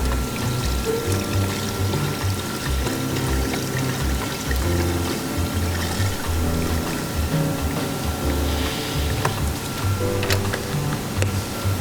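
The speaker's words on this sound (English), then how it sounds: "I need to add the washer fluid" Washer fluid glugs and pours steadily into the reservoir of a 2017 Subaru Crosstrek, a continuous liquid gurgle with rhythmic low bubbling pulses, close and moderately quiet throughout.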